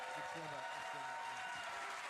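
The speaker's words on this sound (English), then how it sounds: "Give a round of applause to everybody." A crowd at the Gearbox PAX Show 2025 claps steadily in a dense wash of applause, with a voice talking over it throughout.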